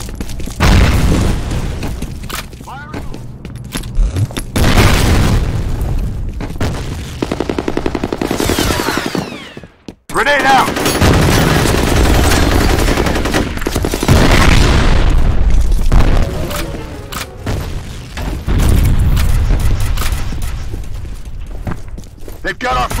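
A grenade explosion and bursts of gunfire in the F.E.A.R. Combat multiplayer shooter, loud and dense throughout, with booming blasts and rapid automatic fire, while voices call out over the action.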